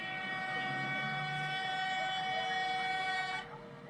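Metro train on East Africa's first light rail system in Addis Ababa, a steady rumbling pass with sustained horn-like tones, moderately loud, then dropping off near the end.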